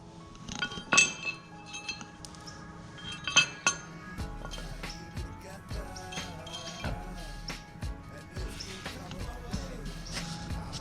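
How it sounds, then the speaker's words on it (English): Small metal bolts and nuts clink and rattle while motorcycle rearsets are installed, with several sharp clinks early on followed by lighter tapping and handling noises. "Using the supplied Phillips head and hardware, install 2 bolts and 2 nuts onto the right side rear set."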